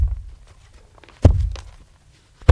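Big log banged on earth to mimic heavy dinosaur footsteps: a single deep, close thud in the middle, with softer bumps before it and another knock at the very end.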